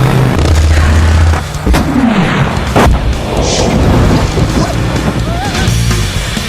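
Explosive tank combat from a Nintendo 64 Battle Tanks advert: loud, dense booms and crashing blasts with rumbling low end, one sweeping whoosh, and a busy layered mix throughout.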